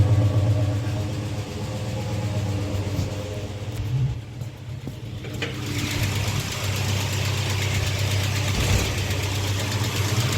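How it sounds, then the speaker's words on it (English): A Chrysler Valiant engine runs steadily with its spark cutting out, a continuous close rumble with uneven blips and a brief dip partway through. "I might be able to hear that sort of blipping. Oh, the spark's cutting out."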